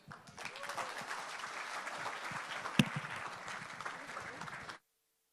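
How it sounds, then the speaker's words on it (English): Conference audience at a national public health event claps together in a sustained burst of applause, fairly close and steady, stopping abruptly. "Two hands up and rub your hands together. Rub, rub, rub. And clap 3 times."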